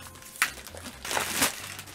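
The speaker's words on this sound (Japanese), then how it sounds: "ビニール袋に入ってんの？" Thin plastic bag crinkles in a few short bursts while an engine starter that doubles as a mobile battery is unboxed, fairly close and quiet with no talk over it.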